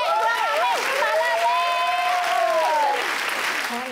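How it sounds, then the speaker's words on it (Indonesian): A studio audience claps in a dense steady wash of applause, loud and close, while a voice sings or calls out melodically over it. "Tepuk tangannya mana, pemirsa?"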